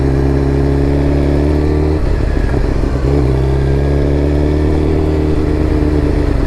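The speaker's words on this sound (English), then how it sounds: "The throttle on it is so more responsive after putting this M4 exhaust on it." A Suzuki GSXR 1000 fitted with an M4 MC-36 full exhaust runs loud and close, holding a steady throaty drone that dips briefly around two seconds in and then settles back to a strong, even engine note.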